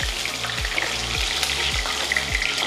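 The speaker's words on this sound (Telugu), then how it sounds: "నేను ఫస్ట్ పచ్చిమిరపకాయలు ఒక్కసారి వేయించి తీస్తాను" Green chillies fry in hot oil for a Telugu onion pickle, giving off a loud, steady, bright sizzle punctuated by a few dull knocks from stirring.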